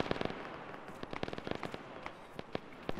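Rapid gunfire crackles in a military shooter game, with sharp irregular bursts and single shots, some close and some distant, in quick succession.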